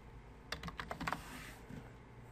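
A soft run of quick keystrokes on a computer keyboard, about eight clicks in a short burst, close and fairly quiet against a low room hum.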